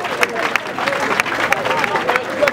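Audience applause with steady clapping and crowd noise, fairly loud and continuous throughout, at a gathering honoring an actor.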